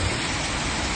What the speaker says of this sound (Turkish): acayip yağıyor